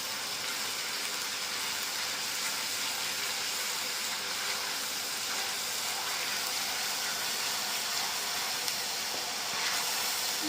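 Ginger garlic paste fries in a hot pan for chicken curry, giving a continuous, even sizzle and hiss that holds steady for several seconds with no talking.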